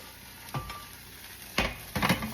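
Sausage hits hot gravy in a pan while an old-fashioned breakfast cooks, with three short sizzling, hissing bursts over a low background hiss.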